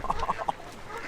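Seagulls give a quick burst of about five harsh squawks close by, loud at first and then falling away into quiet background noise.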